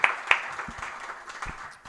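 An audience at a live comedy show during the Melbourne International Comedy Festival gives applause that opens with a couple of sharp claps and then thins into scattered, fading clapping.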